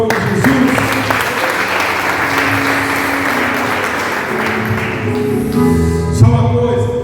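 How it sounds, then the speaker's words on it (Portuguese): A church congregation applauds loudly together, a thick, sustained wash of clapping that holds steady for several seconds and then starts to fade, with faint voices and background music underneath. "Vamos aplaudir o nome de Jesus"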